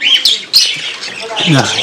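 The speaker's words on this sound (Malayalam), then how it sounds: "നമ്മളെ പ്രാവ്, നമ്മളെ കുട്ടിപ്രാവ് പുറത്തിറങ്ങിയിട്ടുണ്ട്." A nearby young pigeon squawks and chirps, a few harsh high calls in quick succession, with a voice briefly speaking underneath.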